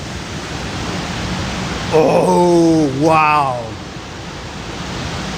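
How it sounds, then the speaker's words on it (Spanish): Water pouring as a waterfall at the end of a tunnel at the El Cajón hydroelectric dam in Honduras, a constant loud roar throughout, while a person briefly exclaims in the middle. "No sé si logran apreciar el sonido de cómo está cayendo el agua al final del túnel, pero es pura cascada"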